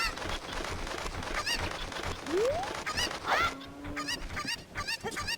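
Chicken clucks and squawks from Zelda: Ocarina of Time, a series of short rising and falling cries over steady game background sound, fairly faint and close.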